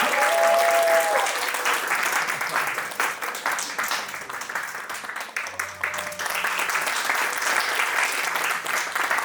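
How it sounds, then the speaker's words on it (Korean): An audience at a worship gathering and scholarship ceremony breaks into sustained applause, many hands clapping in a dense crackle that dips slightly midway then swells again, with faint room tones beneath. "네, 큰 박수와 감사 부탁드립니다."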